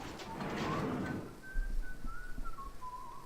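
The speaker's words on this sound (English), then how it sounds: "Now he's whistling." Whistling from a character in the video game Bioshock, a faint wavering melodic whistle drifting across the last two seconds after a louder rush of game noise, with soft footsteps or thuds underneath.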